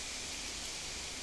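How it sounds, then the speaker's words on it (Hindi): Heavy rain falls outside as a steady, even hiss, faint and uniform for a brief moment without any voices. "ये रुकने का नाम नहीं ले रही है बारिश"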